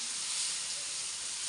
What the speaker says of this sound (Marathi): तर आता पहिलं तेल टाकून थोडंसं फ्राय करून घेते